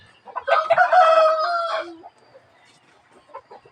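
A hen brooding a clutch of eggs gives one loud, drawn-out squawking call close by, followed by softer scattered clucks and small rustling from nearby chickens.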